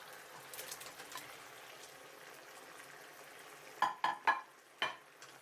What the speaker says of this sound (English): Stir from time to time for 2 minutes